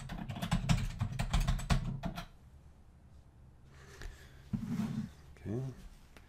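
Password keystrokes tapped on a computer keyboard during a Google BigQuery cloud login, a quick run of clicks in the first two seconds and another short burst later, with a voice talking over and between them.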